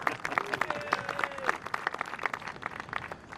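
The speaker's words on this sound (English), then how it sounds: "give yourselves a round of applause" A team applauds in the F1 2021 racing game, with distinct claps at an uneven rhythm that are moderately loud and close, while a faint tonal whistle-like sound runs under the clapping.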